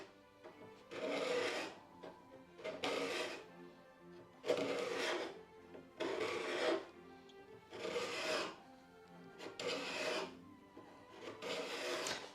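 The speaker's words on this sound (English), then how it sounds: "it goes much easier with the card scraper" A card scraper strips paint from an old, cheap wooden door in a quiet series of about seven rhythmic rasping strokes, each a short burst with brief pauses between.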